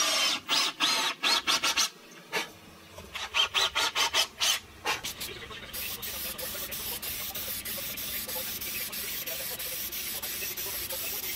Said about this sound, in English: I sanded the inner and outer frame thoroughly, going through each one of the grits